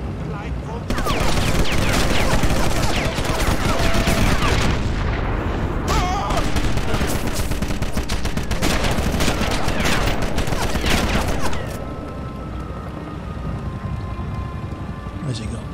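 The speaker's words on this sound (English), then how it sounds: "Shots." Gunfire in the Sniper Elite video game: a dense, loud crackle of rapid shots runs almost unbroken for several seconds, then drops back to a quieter rumbling background.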